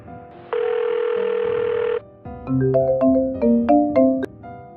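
A telephone sounds before a call: a steady, loud dial tone, a short pause, then a quick melodic run of electronic ringtone beeps, heard alone without voices.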